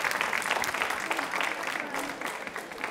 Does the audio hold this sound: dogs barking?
no